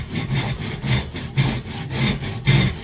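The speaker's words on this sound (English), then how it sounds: "Again, I haven't got the sharpest of saws, but it's doing all right." A slightly blunt hand saw cuts squarely through wood in steady back-and-forth strokes, about two rasping pushes per second, close and clear with no talking.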